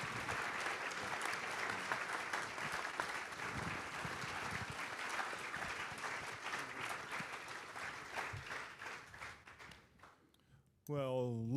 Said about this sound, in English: ladies and gentlemen, how about a round of applause for these great folks?